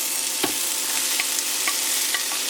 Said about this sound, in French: Alors dans la poêle, je mets tous mes légumes.